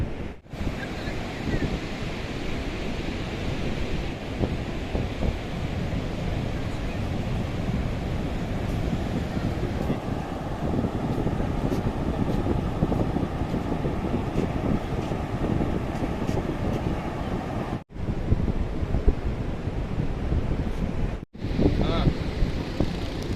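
Sea waves breaking on the beach at Mandarmani make a steady, full roar of surf, with wind buffeting the microphone throughout and two brief dropouts near the end.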